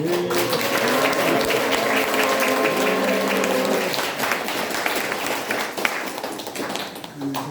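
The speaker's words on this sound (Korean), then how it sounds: "따뜻한 환영의 박수를" A church congregation claps in welcome for an elderly guest, a warm, steady round of applause that fades after a few seconds, with voices murmuring over it.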